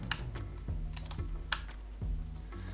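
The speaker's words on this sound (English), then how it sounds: "Don't worry if you don't see anything while you are typing a password." Password typed on a computer keyboard at a terminal: a quiet run of irregular key clicks and taps, close by and fairly soft, with no talking.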